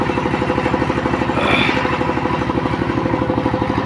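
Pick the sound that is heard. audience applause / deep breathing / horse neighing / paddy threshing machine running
paddy threshing machine running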